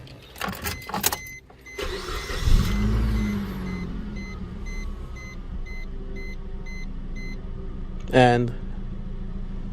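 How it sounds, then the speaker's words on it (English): A car engine cranks and starts after a spark plug replacement, then settles into a steady, moderate idle with a hum, with a few beeps early on and a brief voice near the end. "Now you got to make sure the vehicle starts and runs properly."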